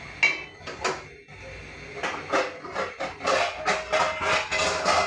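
Metal clanks and clatters as a lid is set on a cooking pot of beef with chickpea dal, several sharp knocks followed by a run of rattling, close and fairly loud with no talking.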